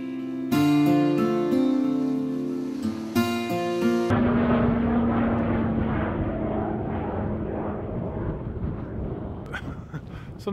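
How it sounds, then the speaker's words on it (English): A Spitfire fighter plane passes overhead outdoors in the Yorkshire Dales at Malham, its broad engine roar loud and sustained after a few seconds of music, then slowly fading as it moves away. "that was a Spitfire just flying overhead"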